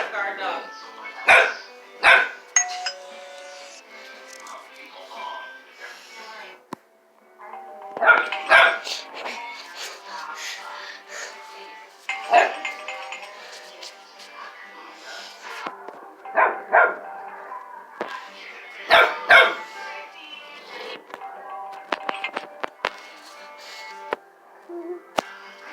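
A dog barks in loud, sharp bursts at a doorbell, the barking coming in clusters over about 25 seconds, with whimpers and yips between the bursts and people talking in the background.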